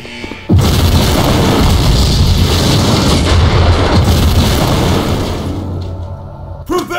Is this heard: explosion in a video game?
yes